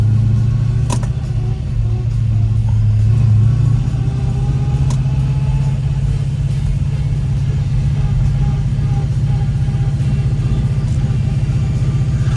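Mopar winged cars at Atlanta Motor Speedway rumble and rev continuously, a heavy engine drone holding throughout with occasional sharp clacks, no speech.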